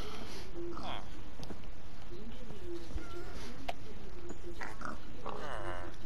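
Minecraft pig oinks and grunts come in short bursts over a noisy background, with a voice speaking briefly in between.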